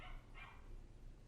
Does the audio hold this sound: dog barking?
yes